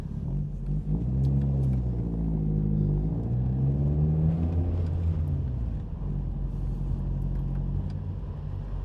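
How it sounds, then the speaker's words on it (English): A 1994 Nissan Pulsar GTI-R rolls through an enclosed parking garage, its engine a steady low rumble that rises and falls in pitch as it moves, with no one talking. "Just driving through the garage here."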